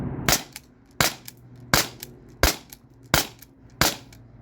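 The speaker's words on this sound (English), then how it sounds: "Alright you guys, aluminum balls, mag dumping." An HDP50 Gen 2 launcher fires aluminum balls in a quick magazine dump: six sharp, loud cracks spaced roughly two-thirds of a second apart, each followed by a short ring-out.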